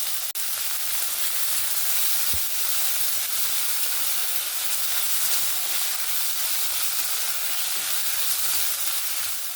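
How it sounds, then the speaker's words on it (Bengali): Garlic and ginger paste fries in a pan, a steady close sizzle and hiss running evenly from start to finish with no talking. "আমি এখানে রসুন থেতো করে দিয়েছি, আর আদাটা পেস্ট দিচ্ছি।"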